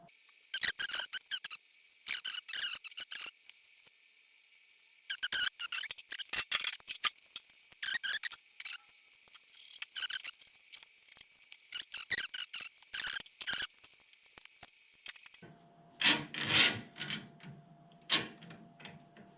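Thin ES-335 guitar side wood, softened with ammonia, being slowly bent by hand, giving close intermittent creaks and squeaky scraping bursts separated by short pauses, with a lower, duller rustle toward the end.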